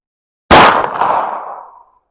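A single close, loud report from a Hi-Point .40 S&W carbine fired at a target about 15 yards away, with a sharp metallic crack that rings and fades over a little more than a second.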